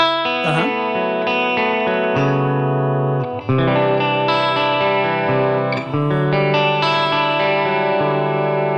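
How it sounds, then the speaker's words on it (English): Electric guitar played through a tone effect unit that adds a slight wow and flutter, sustained chords and notes with a gentle wavering pitch and a distorted edge, no talking. "We'll click it on. You can hear there's like a really slight wow and flutter there."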